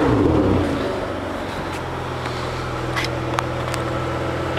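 A Ferrari 599 GTB F1 Fiorano engine runs with a brief rise in revs at the start, then settles into a steady deep idle, close and loud with a few faint clicks on top.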